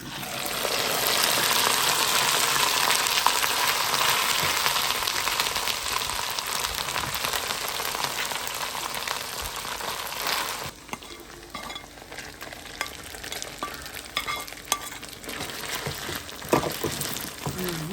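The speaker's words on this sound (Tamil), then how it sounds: "இது பொரிஞ்சோண்டு இருக்கட்டும்" Chicken pieces sizzle and fry in hot oil for a chicken pickle, a loud, steady crackling hiss that drops to a quieter bubbling partway through, with occasional clicks and scrapes.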